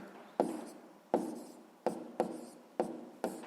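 Handwriting on paper while working a sixth-grade math exercise: six quick, scratchy strokes at uneven intervals, each a short rasp that fades fast, close and fairly quiet with no voices.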